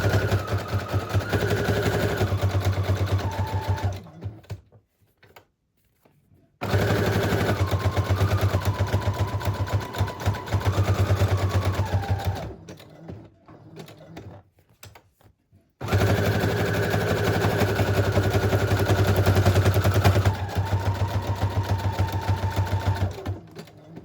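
A sewing machine runs a zigzag stitch on a junk journal project in three long bursts of rapid mechanical rattling, with pitch shifts as the speed changes and short quiet pauses between runs.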